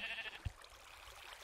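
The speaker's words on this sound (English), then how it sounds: "Oh no, it's a sheep." A single short sheep bleat from the Minecraft video game, quiet and brief against faint background noise.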